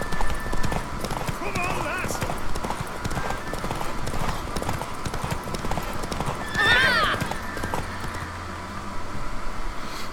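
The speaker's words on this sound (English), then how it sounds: "I am so good at riding horses" Galloping horse hooves in The Witcher 3 video game, a fast continuous clip-clop with a brief whinny midway, under steady game ambience and someone talking.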